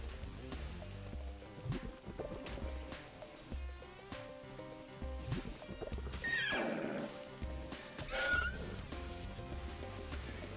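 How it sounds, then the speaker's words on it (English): A horse whinnies sharply twice in World of Warcraft as it is hit, over busy game music and clip-clopping hooves, each neigh loud and strained. "this horse sounds like it's getting totally destroyed when it gets hit"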